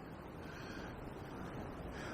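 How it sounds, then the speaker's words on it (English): Steady, rushing wind buffets the microphone throughout on the River Avon in winter, a dense roar with no pauses and no voices. "it is so windy"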